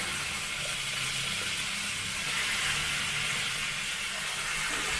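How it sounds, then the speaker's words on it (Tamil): Finely chopped small onions sautéing in a pan give a steady, close hiss of sizzling that runs unbroken and fairly even throughout. "இதை வதக்கி விட்டுருவோம்"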